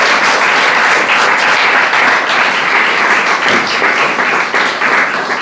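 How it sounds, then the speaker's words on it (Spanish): Inside a church, a congregation breaks into loud, sustained applause, a dense wash of many hands clapping close and full for several seconds with no speech on top. "denle un fuerte aplauso al Señor."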